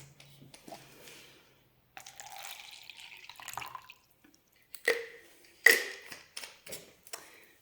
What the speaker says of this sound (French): je vais prendre de l'eau